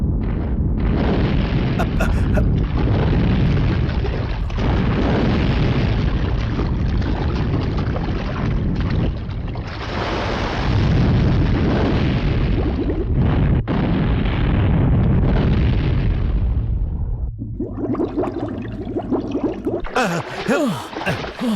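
Gunfire and explosions boom in a South Indian action film dubbed into Hindi, a dense, loud barrage of blasts and bursts that rolls on almost continuously, with a brief lull near the end before more bangs.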